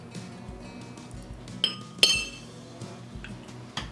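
A fork clinking against a plate: two or three sharp, bright clinks close by, with quiet room noise between them and no talk.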